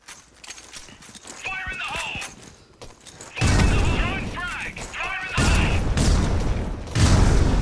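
Frag grenades explode during video game combat, two heavy booms landing a couple of seconds apart over rattling gunfire and battle noise, with voices shouting in between.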